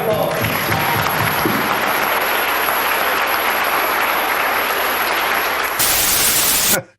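Applause from a gathered audience at a tribute event, a dense steady wash of clapping that holds loud and even for several seconds before swelling briefly and cutting off abruptly.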